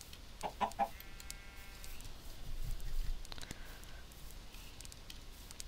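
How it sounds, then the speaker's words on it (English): Chickens cluck in a farming video game, with short, faint, scattered clucks and one brief squawk over a quiet background and no talking. "Come on, chickens."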